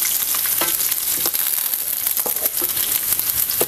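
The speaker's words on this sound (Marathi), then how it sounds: "लसणाचं कच्चेपणा जाऊपर्यंत आपल्याला चांगलंसं परतून घ्यायचं, लालसर व्हायला पाहिजे लसूण सुद्धा." Garlic sautéing in a pan for a Maharashtrian milk-brinjal masala, a steady dense sizzle and frying crackle with occasional stirring scrapes, close and fairly loud throughout, no voices.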